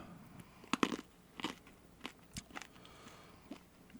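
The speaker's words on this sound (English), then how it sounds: "I'm chewing in the mic while I need some noise" Berries being chewed close to a microphone, with crisp biting crunches and wet chewing bursts spaced irregularly across the moment, loud and intimate with no talk.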